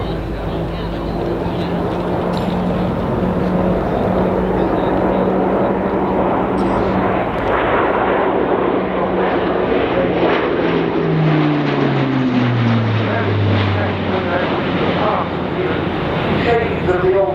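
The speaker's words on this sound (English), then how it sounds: "A faster fly past now." An Airbus A400M military turboprop transport roars past in a fast low fly-by at an air display, a loud sustained engine drone whose pitch sweeps down as it passes.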